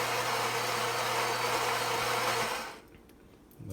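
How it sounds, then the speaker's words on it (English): A Philips 3100 super automatic espresso machine grinding coffee beans gives a steady, close, buzzing mechanical drone for about two and a half seconds, then stops abruptly, leaving faint clicks. "So it grinds your beans"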